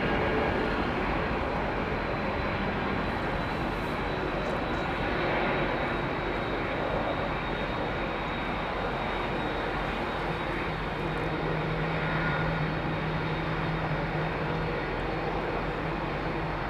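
Airbus A320neo family jets at London Heathrow Airport, a steady broadband engine roar with a distant rumbling drone that holds at an even level throughout, no voices.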